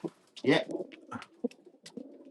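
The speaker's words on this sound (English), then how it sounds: "some beautiful pigeons" Pigeons coo in a Belgian racing loft, soft throaty burbles close by, mixed in with someone talking briefly.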